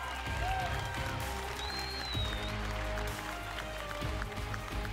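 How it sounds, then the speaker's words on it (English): Steady crowd applause fills the arena at a Call of Duty esports grand final, dense and continuous, with scattered cheers and whistles rising through the clapping. "can we give these 2 teams a round of applause for what we just saw right there?"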